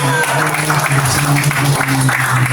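An audience at a community meeting claps briefly and steadily, a short burst of indoor applause with faint voices underneath.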